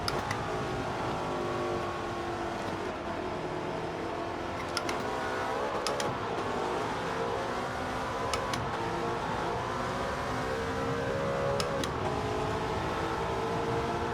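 Mercedes-Benz W 196 R racing car engine in Gran Turismo 7, a steady sustained drone with shifting pitch across the whole stretch, loud and continuous, with a few faint ticks on top.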